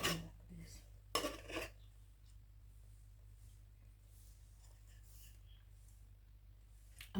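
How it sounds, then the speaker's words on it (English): A cooking pot being scraped and cleaned in a village kitchen in Kenya, with two brief metallic clatters of utensil against pot amid a faint, steady background hum. "It's a way of cleaning your pot also."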